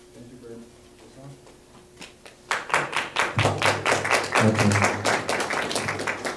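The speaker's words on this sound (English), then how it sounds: "Thank you for that warm round of applause." Audience applause at the LetsBuyBlack365 national launch press conference, beginning abruptly after quiet talk and continuing as loud, close, rhythmic clapping from a small crowd, with a voice speaking over it.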